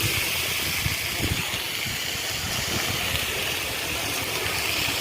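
Mixed vegetables with onion, chili and garlic sizzle in a frying pan with whole cumin, a loud, steady hiss that runs unbroken throughout.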